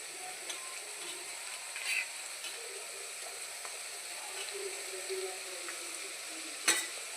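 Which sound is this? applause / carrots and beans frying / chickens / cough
carrots and beans frying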